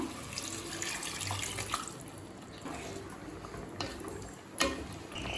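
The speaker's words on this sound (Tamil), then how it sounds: "இப்போ 1 கப் தண்ணி சேர்த்துக்கலாம்." A cup of water is poured into a pot of chicken biryani with masala, a continuous splashing pour with a few louder splashes, close by and with no talking.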